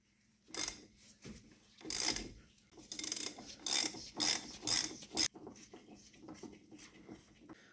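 Ratchet on a 36 mm socket loosening the oil filter housing cap of a BMW E46 3 Series, a series of loud, rapid clicking bursts in quick succession, close up, with no talking.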